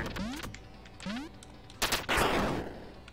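Gunfire in the Duck Game 2 video game: a few rapid synthetic shots with zapping sweeps in the first second, then a louder burst of bangs and crackling blasts toward the end, with no voices.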